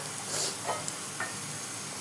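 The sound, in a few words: roti strips frying in a pan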